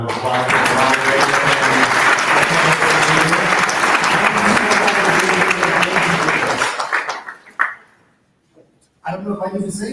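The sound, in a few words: audience applause for the moderators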